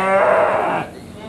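A Garut ewe at the Majalaya sheep market, Bandung, lets out a single loud, drawn-out bleat lasting under a second, followed by quieter market background.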